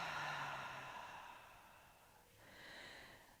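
A slow, deep exhale during a yoga mobility session: a soft, airy breath that fades out and then swells faintly again, close and quiet with no talking.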